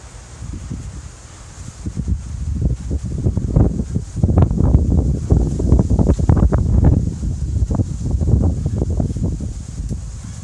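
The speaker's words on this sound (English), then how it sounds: "The wind is coming right now." Strong outdoor wind gusting against the microphone in rising and falling surges, loud buffeting rumble with rustling, no voices.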